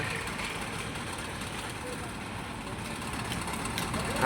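An auto-rickshaw engine hauls a rotavator, giving a steady, fairly loud mechanical drone with low rumble that swells slightly toward the end.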